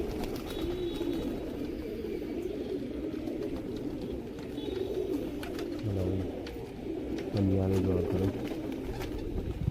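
Breeder pigeons coo in a loft, repeated low throaty calls mid-distance, with a person talking intermittently over the birds.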